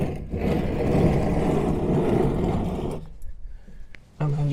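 A Yamaha MT-10 SP motorcycle engine running with a rough, steady rumble for a few seconds after an oil change, then cutting out, followed by quiet clicks and another brief burst.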